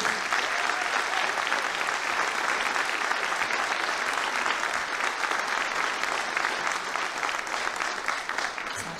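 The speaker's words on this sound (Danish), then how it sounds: "Vil I give nogle klapsalve?" Loud, sustained applause from a concert audience at a music school's spring concert in Lolland, Denmark: dense, even clapping close by that continues without a break and eases off slightly at the end.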